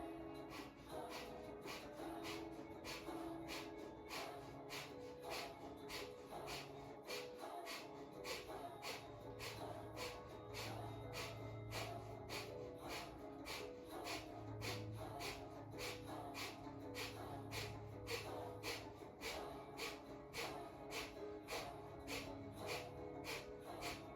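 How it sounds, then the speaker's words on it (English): Rapid rhythmic breath of fire yoga breathing, sharp nasal exhalations repeating steadily at about two per second for over twenty seconds, close and even, with no talking. "Let's begin breath of fire."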